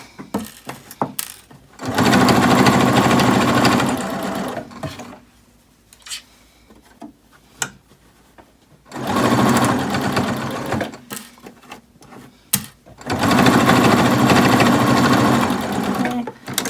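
A sewing machine stitches a chain of cloth face masks in three loud, sustained runs of rapid whirring, separated by quiet pauses with small clicks and handling noises.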